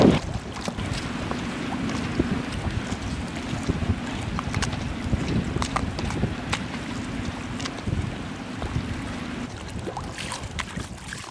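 Steady gusting wind roars across the open water of the Solent, with rushing spray and the slap of waves against a moving sailing yacht, loud and continuous.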